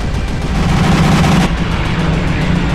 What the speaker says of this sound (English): I just shot the roof next to me.